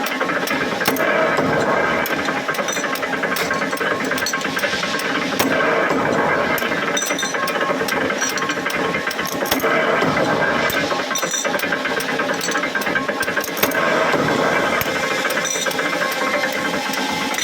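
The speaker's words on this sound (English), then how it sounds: "So those are the heavy duty bending machine" A heavy-duty steel rod bending machine forming greenhouse arch rod connection parts runs at a steady, loud level, with dense mechanical clatter and rattling throughout and no voices.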